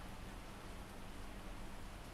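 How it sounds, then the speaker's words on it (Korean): Steady rain falls in Baedong, a dense, even hiss of drops with no pauses, heard alone at a moderate distance. "제가 사는 배동에는 비가 오는데요"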